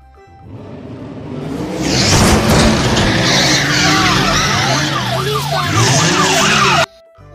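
Cartoon car sound effect in a children's phonics song: an engine revs up and tires squeal through sweeping pitch bends, loud and continuous for about five seconds before cutting off abruptly.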